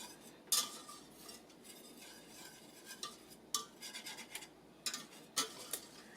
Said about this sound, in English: Now we're going to whisk them together.